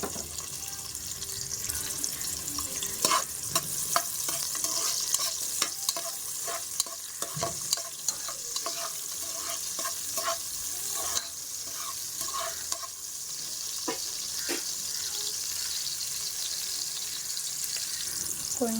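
Half an onion fries in hot oil for a vegetable kurma, a continuous close sizzle broken by irregular sharp stirring clicks and scrapes of a spoon in the pan.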